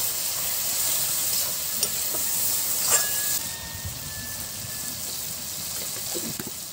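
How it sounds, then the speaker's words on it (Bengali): Bengali spice masala made with Kashmiri chilli powder sizzles steadily in a pan as it is stirred, with a little water added, giving a continuous hiss broken by a few brief scraping clinks. "এবং তার কিছুক্ষণ পরে হালকা একটু নেড়ে নিয়ে হালকা অল্প করে জল দেব শুধুমাত্র কষার জন্য"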